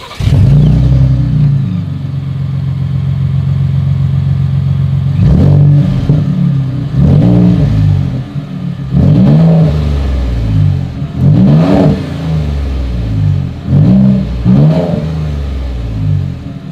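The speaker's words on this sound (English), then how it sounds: "As always, here is that exhaust clip" A 2020 Ford Raptor with dual exhaust idles with a deep rumble, then is revved in a series of sharp throttle blips, each roaring up and settling back, loud and close.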